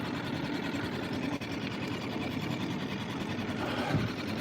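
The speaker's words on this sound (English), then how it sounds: "I'm gonna say this thing even at idle is faster than that Amazon motor was at full throttle" A new 2025 Suzuki 6HP outboard motor idles close by with a steady, fast mechanical buzz and chatter, running evenly throughout.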